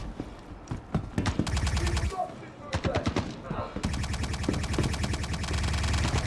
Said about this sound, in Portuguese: O tiro atravessou a parede, velho.